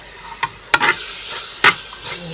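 A spoon scrapes and stirs a jackfruit and chickpea dish in a pan, giving a few distinct strokes over a soft, steady sizzle, close and fairly loud.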